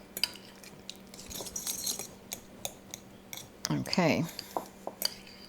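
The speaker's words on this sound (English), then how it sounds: "you'll mash this all together. You can use a whisk or a fork, just press it against the side of the bowl" A fork presses and mashes vinaigrette ingredients against the side of a bowl, making light clinks and scrapes with one longer grinding scrape, under a brief spoken word.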